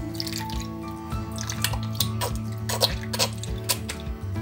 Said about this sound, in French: Bon, j'ajoute ma crème liquide.